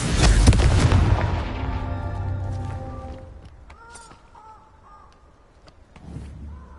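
Confringo spell explosion in Hogwarts Legacy, a loud close boom at the start that rumbles and decays over about three seconds, followed by faint cawing calls and a smaller low thump at the end.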